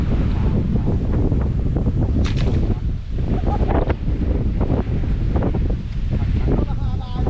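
Strong outdoor wind by open water buffets the microphone in a continuous rumbling roar, with faint splashing underneath and brief voices now and then.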